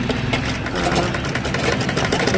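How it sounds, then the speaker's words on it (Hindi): A sewing machine runs steadily through stiff brocade fabric while stitching a child's skirt, a continuous close mechanical whir with a fast even rhythm throughout and no voices. "ऊपर से फिनिशिंग वाली सिलाई दे रही हूँ, ताकि ये उठा हुआ ना दिखाई दे"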